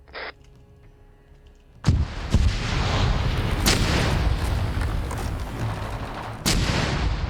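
Gunfire in a military video game: a loud, close blast is followed by sustained heavy rumbling fire and another sharp report near the end, dense and continuous over a low electronic hum beforehand.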